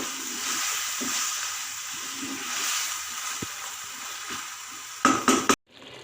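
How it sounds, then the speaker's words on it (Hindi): Fried spices sizzle steadily in a pan before vegetables such as potatoes and capsicum for a chicken dish drop in with a few sharp clattering bursts near the end, followed by a sudden quiet. "मसाले भूनने के बाद हम इसमें सब्ज़ी ऐड कर लेंगे"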